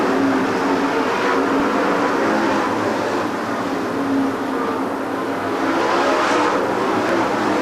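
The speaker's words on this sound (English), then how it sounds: "As that Lanigan and Mars continue to deal with slower cars" Dirt track race cars roaring around Farmer City Raceway during a late-model event, a continuous loud engine drone with passing cars swelling and fading as the pack circles the track.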